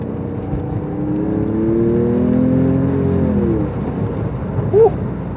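A Porsche 911 with 350 brake horsepower accelerates hard from inside the car, its engine note rising through the revs in a loud sustained pull, then easing off, with road rumble underneath.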